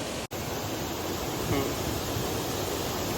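A waterfall near a house in Indavati village, Lanja, Ratnagiri, rushes as a steady, broad roar of water, loud and unbroken, with a brief cut near the start.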